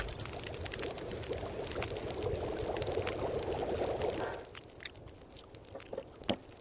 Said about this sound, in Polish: przetapia nieco śniegu i wodę tą przygotowuje